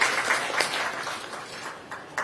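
Audience applause at the 45th annual conference of the Indian Society of Gandhian Studies, a steady patter of clapping from a crowd that continues for a couple of seconds and tapers slightly toward the end.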